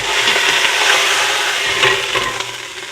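Meat searing in a pot for sauerbraten gives a loud, steady close-up sizzle with faint crackles throughout, and no voices are heard.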